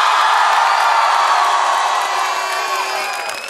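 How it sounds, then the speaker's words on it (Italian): A crowd of students cheers and whoops loudly in a town square outside the town hall in Tradate, a dense, sustained roar of shouting voices that fades slightly toward the end. "Un grande applauso a questo sindaco"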